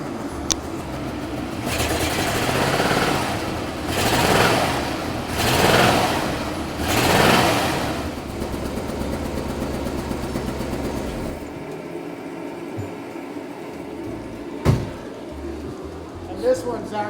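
An old car with a burnt valve and a cylinder down on compression idles and revs in a workshop. The engine swells in four loud bursts, then drops to a steady idle, with a sharp knock near the end.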